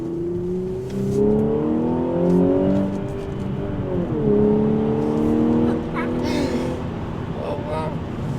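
An Audi S5 with a modified exhaust accelerating on an open road, engine note climbing steadily through the gears with rising pitch, heard from inside the car under a continuous loud drone.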